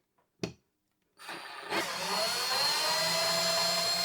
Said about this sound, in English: I'm going drill. Screw it in.